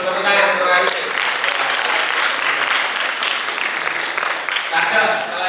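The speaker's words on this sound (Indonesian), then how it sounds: "Salaman dulu, tepuk tangan untuk Kak Hilmi." Seminar audience marking National Children's Day applauds a guest, sustained crowd clapping throughout with voices talking over it.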